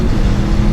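An Aprilia Tuono V4 motorcycle engine pulls hard under partial throttle in a brief, loud, close burst of low rumbling drive with no voices.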